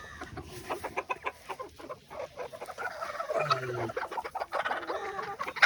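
A chicken clucks in short, irregular bursts at moderate distance, with soft rustling and a steady background hiss between the calls.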